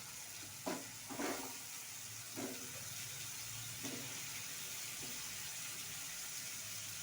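Marinated chicken fries in refined oil in a pan, a steady faint sizzle broken by a few soft scraping stirs.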